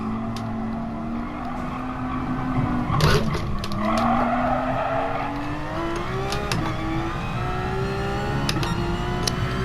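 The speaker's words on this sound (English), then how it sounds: "He made an unsafe re-entry and crashed into me." Race cars skid with squealing tires in the Gran Turismo Sport video game during a GT League event, engines droning steadily as a loud crash-like burst hits near the three-second mark, followed by further revving and scattered impacts.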